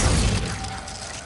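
A Glacius freezing spell cast in the video game Hogwarts Legacy, a dense crackling, shattering burst that stays loud and broadband throughout the short moment.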